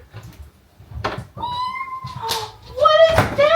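A kitty meows close by, two drawn-out rising cries with a shorter sound before them, over a quiet low rumble of household background.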